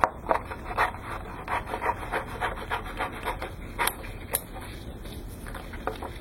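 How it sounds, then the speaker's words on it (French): Cardboard cut along a traced pencil outline, giving steady rasping, rubbing strokes in an irregular rhythm at close range, with a couple of sharper snips near the end. "maintenant, je vais pouvoir découper mon carton"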